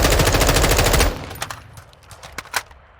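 Automatic rifle fire in Modern Warfare 2, with a VLK optic fitted, rattles as a loud, rapid burst for about a second, then stops, leaving a few scattered softer clicks and thumps.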